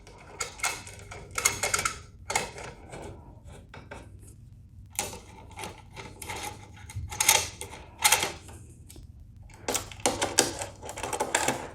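A 5mm hex key turns bolts on a Kawasaki Concours 14 luggage rack, giving bursts of close metallic clicking and ratcheting rattles separated by short pauses.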